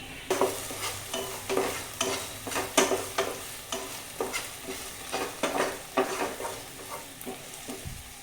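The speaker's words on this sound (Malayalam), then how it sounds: "എന്നിട്ട് നല്ലപോലെ ഒന്ന് മിക്സ് ചെയ്ത് കൊടുക്കുക." Okra thoran being stirred in a pan, with a soft continuous sizzle under repeated rhythmic scraping and clattering strokes of a spoon against the pan, close and moderately quiet, with no one speaking.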